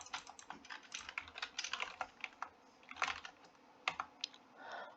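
Someone types fast on a computer keyboard, giving a quick, uneven run of close key clicks with a few louder strikes. No one talks.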